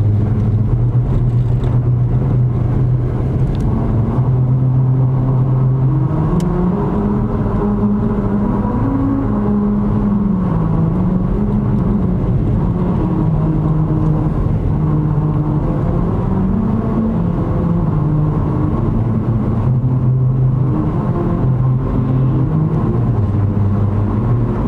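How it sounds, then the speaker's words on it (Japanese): A car rolls over a melody road on the approach to Kusatsu, tyre grooves singing a tonal tune that steps up and down in pitch over a steady road and engine drone, close and loud, no voices. "これメロディーライン、始まります"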